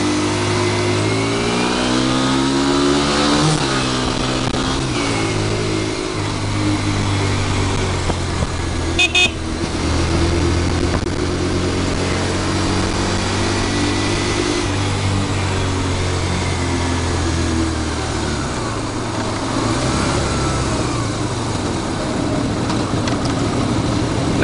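Scooters and cars move along a busy Taichung street, with engines revving and passing close, a horn tooting briefly, and a steady mix of traffic rumble throughout.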